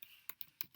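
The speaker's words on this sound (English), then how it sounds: "click Ctrl F, type John" Computer keyboard keys clatter in a brief burst of about four close, quick taps, faint overall with no voice.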